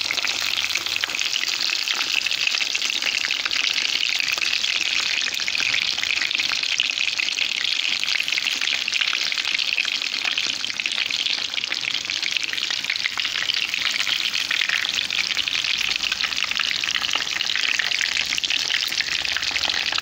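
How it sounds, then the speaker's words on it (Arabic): Crispy chicken strips deep-frying in hot oil in a pan, a loud, dense, steady sizzle and crackle that holds unbroken throughout, close up with no talking. "من بعد ما داك الدجاج كيتحمر لي مزيان من الجهه الثانيه، غادي نقلبو باش يطيب وياخذ اللون من الجهه الثانيه كذلك"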